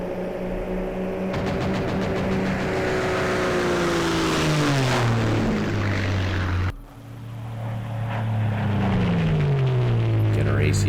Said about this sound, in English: AC-130 in action.